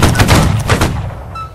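Musket volley fire during a Holdfast line battle: a loud cluster of overlapping gunshot cracks in the first second, tapering into a rumbling echo.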